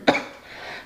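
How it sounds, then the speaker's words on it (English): A single short cough bursts out near the start, close and sharp, then trails off into quiet room tone. "Ooh, cough right at the end there."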